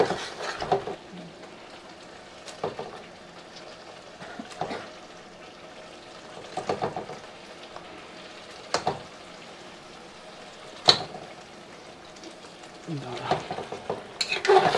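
Mutton pieces go into a pan of frying spice paste for a large mutton leg dish and are stirred, giving a soft steady sizzle broken by sharp scraping and clanking of a utensil against the pan, fairly quiet.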